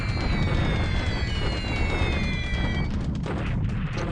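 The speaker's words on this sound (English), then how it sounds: "we're putting a lot of bombs on these ships" Continuous heavy booming and rumbling from bombs striking warships in a port during a WWII naval video game set in January 1942, loud and dense, with a falling whistle-like tone fading midway.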